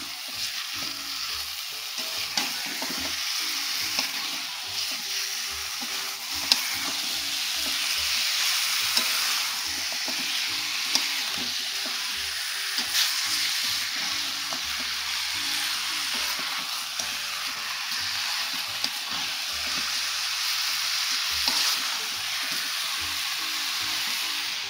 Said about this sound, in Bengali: একটু বেশি করে নাড়তে হবে, যতক্ষণ না পর্যন্ত জলটা বেরিয়ে যাচ্ছে মাংস থেকে।